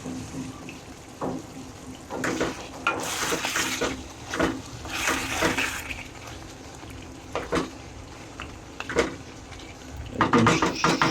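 Mutton bhuna being stirred and sautéed in a pan, with scraping and clinking of a spoon against metal, a sizzling hiss beneath and irregular bursts of louder stirring.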